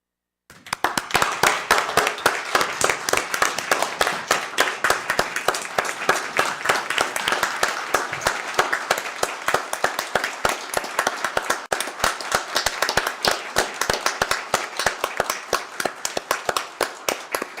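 A school board meeting audience gives a sustained round of applause in honor of a sheriff's deputy and the sheriff, with dense, steady clapping that starts abruptly and carries on for about seventeen seconds without talk.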